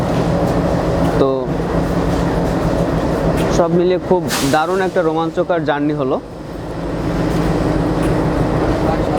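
A train stands at Khulna railway station while its engine is changed, giving a steady low rumble and hiss throughout; someone talks over it partway through.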